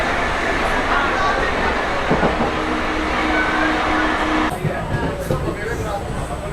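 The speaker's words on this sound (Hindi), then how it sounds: "तो अभी अपनी ट्रेन पहुंच चुकी है पंडू पिंडारा रेलवे स्टेशन।" A hydrogen-powered passenger train in India pulls into a railway station, with steady broadband rumble and rail noise throughout and the sound changing abruptly near the end as it settles; voices are faintly present.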